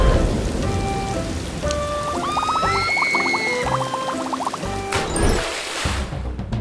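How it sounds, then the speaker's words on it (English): Steady rain pours down during a storm in a children's cartoon, a dense continuous hiss over which bright musical tones and chimes play, with a rumbling swell near the end. "The storm is still strong."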